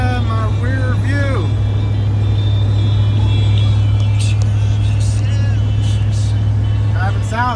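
A car driving south along a road gives off a constant low engine and road drone from inside the cabin, steady and loud, with voices faintly heard over it at times.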